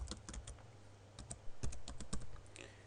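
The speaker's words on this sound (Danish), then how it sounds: "Indtaster brugernavn og password" Keys tapped on a computer keyboard while a username and password are entered, with quick irregular clicks in short runs and brief pauses, close and fairly quiet with no talk.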